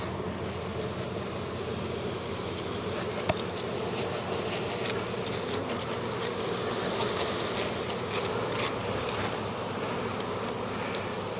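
Package honeybees shaken into a hive during spring installation, a dense steady buzzing swarm sound filling the whole stretch, close and continuous, with one brief knock partway through and no talking.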